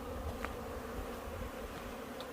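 Hornets buzz around a beehive at an apiary, a faint continuous drone with individual insects passing close now and then.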